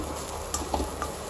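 Kurduche bhaji with coconut pieces dry-roasting in a pan in its own coconut oil, giving a soft continuous sizzle with a few light scrapes of a spoon.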